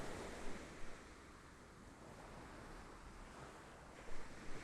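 Sea waves in a sound installation: a soft, steady wash of surf with gentle swells rising and falling, plus a couple of slightly louder surges near the start and end, faint and distant, no voices.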